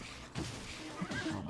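A horse in the Zelda: Breath of the Wild video game gives a neigh, a shaky whinny rising twice over a short stretch, moderately loud against quiet game ambience.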